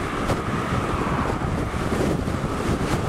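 Strong side wind buffets the microphone of a rider on an MXUS 3k Turbo V3 ebike: a loud, continuous broadband roar with gusty surges and no voices throughout.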